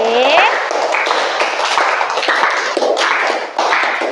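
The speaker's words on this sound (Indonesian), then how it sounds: "Beri tepuk tangan untuk kelas 8B" Students of class 8B clap in a school classroom, a steady, fairly close patter of hands lasting several seconds with little talk.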